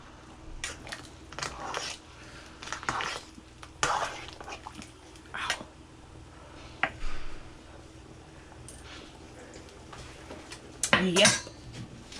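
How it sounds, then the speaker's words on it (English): A spoon stirs escabeche in a metal pot, giving repeated clinks and scrapes in irregular bursts with a sharper clatter near the end, heard up close. "I'm gonna stir it."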